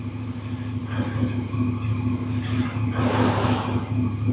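A Voge DS900X adventure motorcycle with a 270 degree crank starts up nearby, its engine catching after a short crank and settling into a steady, throbbing idle with a brief swell partway through.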